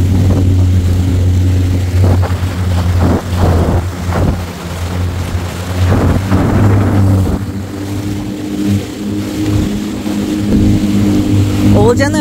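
A jet ski engine drones steadily while running at sea off Australia, loud and close, with wind and water noise and people talking over it.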